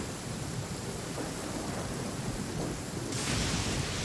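Steady heavy rain hisses over a low rumble of thunder, the downpour intensifying into a brighter, louder wash near the end, with no voices.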